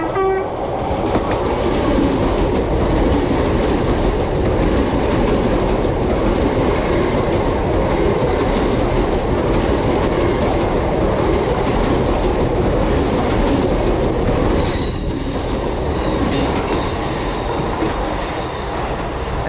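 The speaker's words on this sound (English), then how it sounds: "passing through now, we've got an LNER service to Edinburgh" An LNER passenger service bound for Edinburgh runs through a station, a loud continuous rumble of rail wheels and carriages lasting throughout, with a horn-like tone sounding near the end.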